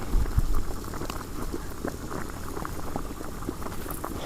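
Spaghetti bubbles in a pot of water on a steady rolling boil, a dense continuous gurgle and patter heard close up without any talk.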